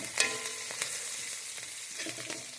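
Garlic with onion and chili sizzles quietly in a little oil in a pan, a steady soft crackle broken by a few sharper stirring scrapes.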